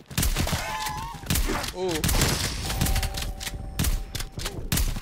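Rapid, sharp gunfire bursts from a Call of Duty Zombies match, crackling in quick rhythmic strings across the clip, with a player's short exclamation and other game sounds mixed in.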